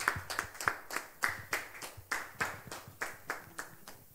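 A church congregation claps in a steady, even rhythm during worship, with about a dozen sharp, close claps spread across the stretch and no talking.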